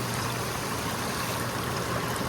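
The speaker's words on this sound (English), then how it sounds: "A waterfall right here." An indoor decorative waterfall rushes in a steady, close, full splashing wash that stays even from start to finish, with no voices.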